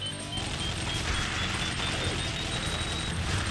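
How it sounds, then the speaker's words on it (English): An explosion in the video game Alien Shooter 2, a dense continuous crashing roar with deep rumble that holds steady for several seconds without speech. "That explosion was so powerful it pushed me back."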